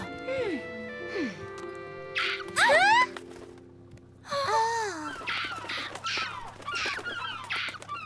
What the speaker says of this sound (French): Je crois que tu vas devoir nourrir ces mouettes affamées